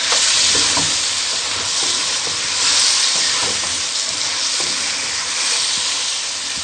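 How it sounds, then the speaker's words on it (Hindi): Chicken for butter chicken sizzles loudly in a hot pan as tomatoes are added, giving a steady, bright frying hiss with a few soft stirring scrapes. "अब हम इसमें टमाटर ऐड कर देंगे।"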